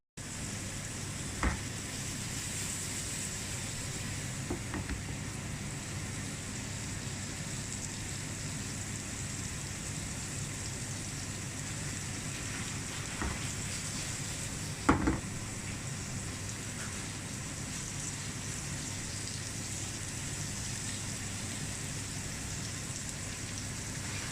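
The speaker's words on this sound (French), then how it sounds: "nous sommes en train de faire revenir nos champignons avec des oignons, de l'ail" Mushrooms, onions and garlic sauté in a pan with a loud, continuous sizzle like steady rain, broken now and then by a faint scrape or tap of a utensil.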